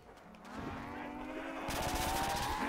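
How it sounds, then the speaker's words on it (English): A sentry gun fires in Call of Duty: World at War, a rapid mechanical rattle that builds and grows louder and denser partway through, sitting close and steady over a humming tonal background. "Sentry gun."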